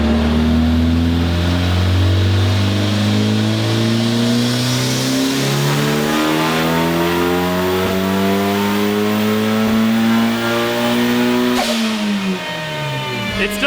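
A turbocharged high-compression 1.6L Mazda Miata engine revs hard on a dyno, its tone climbing steadily over many seconds before dropping abruptly off throttle, loud and close with no talking.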